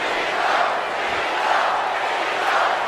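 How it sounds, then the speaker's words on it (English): A WWE 2K19 video game arena crowd chants in a loud rhythmic roar, the swelling and dipping chant filling the whole short stretch with a faint voice underneath. "This crowd chanting for Cena, man."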